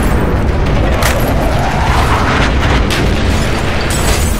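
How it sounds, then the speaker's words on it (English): Bombing run explosions from B-26 bombers in Call of Duty Black Ops, a loud, continuous rumbling barrage with repeated booming bursts layered over each other throughout. "B-26s are about to begin their bombing run."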